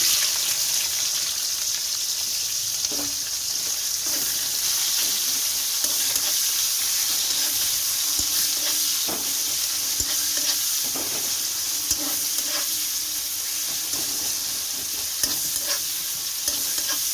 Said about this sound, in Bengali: চলো পেঁয়াজটা ততক্ষণে ভাজা ভাজা হোক